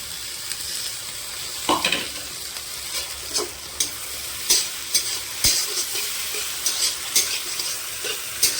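Chili and chopped tomato frying in a pan, a steady sizzle with intermittent stirring scrapes and clinks throughout, close and fairly loud, no talk.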